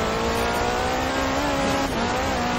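In Forza Horizon 4, a Ford RS200's 1.8-litre turbocharged Cosworth BDT engine drones loudly and continuously, its pitch rising and falling slightly with throttle, with no talk.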